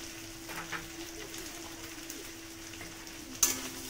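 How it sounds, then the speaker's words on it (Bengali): Potatoes fry in a pan with a soft, continuous sizzle and a faint hum beneath, and a single sharp tap near the end. "আলুটাকে ভালো করে ভেজে নেব।"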